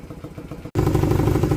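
A 1979 Honda CM185T motorcycle engine idling steadily with a rough, clattery pulse, close up, after a brief cut.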